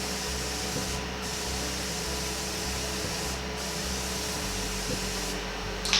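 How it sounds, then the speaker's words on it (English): A fine spray of makeup setting spray hisses onto a face in a few short bursts, close by, over a steady low background hum. "I'm just going to spray my whole face"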